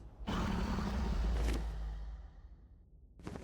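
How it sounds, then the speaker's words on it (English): In Minecraft, the Ender Dragon flies directly overhead: a deep, rumbling whoosh sweeps past, swelling loud and then fading away slowly, with a brief creaky burst at the end. "So you can hear the dragon is flying directly over me"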